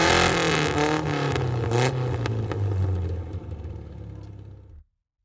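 An FIA F4 race car in the iRacing simulator at Road Atlanta revs loudly with rising and falling engine pitch and rattly gear-shift blips, then cuts off abruptly to silence near the end, with no talk.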